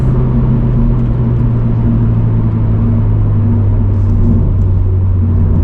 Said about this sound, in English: we can let it rev all the way out. And now shift it to fifth